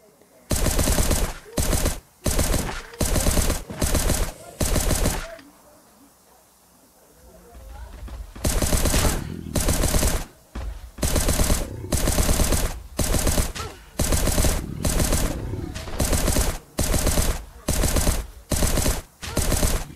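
AK rifle gunfire in the Last Day on Earth video game comes as rapid, loud bursts in a regular rhythm, broken by a quieter pause midway, with a voice talking at times.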